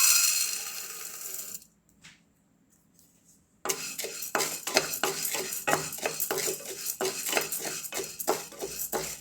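Toor dal being dry-roasted in a pan, a pause and then rapid scraping and stirring with a metal spoon, grains rattling and clinking against the pan in quick repeated strokes close by.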